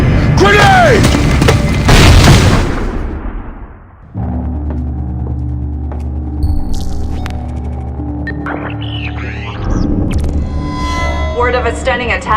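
A grenade blast in the stealth shooter Splinter Cell Blacklist: a loud, deep boom with rumble after a shouted warning, followed by a low, steady droning bed with scattered electronic tones and a voice.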